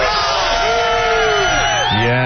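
A crowd of about 40 to 50 Boston police officers cheering and whooping, loud and close, with many overlapping voices and yells that rise and fall.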